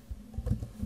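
A computer keyboard clicks as a prompt is typed in, a brief run of soft, close keystrokes with no talk.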